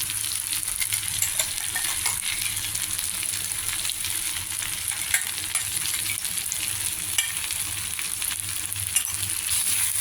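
Capsicum curry with salt, turmeric and a ginger, green chili and coriander paste sizzles steadily in a pan while being stirred, a dense continuous frying hiss with scattered small clinks and scrapes of a spoon.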